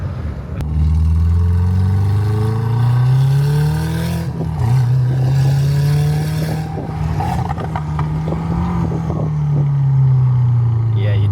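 A 550 WHP Subaru WRX with side exit exhaust accelerates hard through the gears, a loud, close engine note climbing in pitch with a shift break, heard from inside the car with voices over it.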